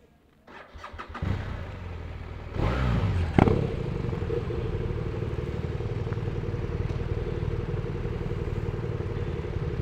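A BMW R1200RT motorcycle engine cranks and fires up, revs briefly, then settles into a steady, close-up idle that continues to the end.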